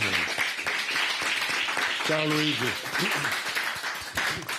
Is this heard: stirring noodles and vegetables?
no